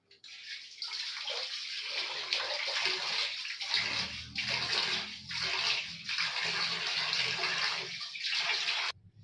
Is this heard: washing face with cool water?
yes